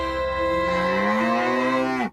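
A single long, loud cow moo from a radio ad sound effect, a close, sustained bellow lasting about two seconds that drops slightly in pitch before cutting off, alone.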